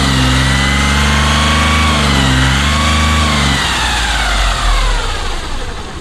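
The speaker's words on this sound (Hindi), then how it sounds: "कार की इंजन की जो आवाज़ है वो भी हम आपको चेक करा देते हैं।" Volkswagen Polo engine with black smoke and low pickup idles loud and close with a steady droning hum, then its tone shifts and roughens partway through, with nobody talking.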